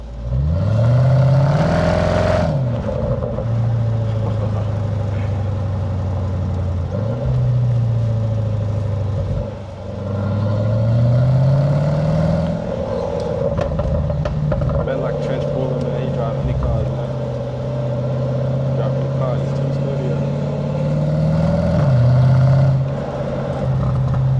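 Heard from inside the cabin, a Range Rover SVR's supercharged V8 roars loudly and repeatedly accelerates, its pitch climbing through gears with short dips between shifts; a voice talks over the engine.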